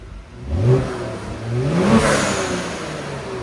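A Kia Stinger GT with a 3.3L twin-turbo V6 and stock exhaust revs twice near the car, each blip rising and falling in a raspy burst before settling to idle.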